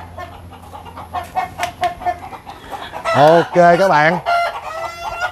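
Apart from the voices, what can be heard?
roosters clucking and crowing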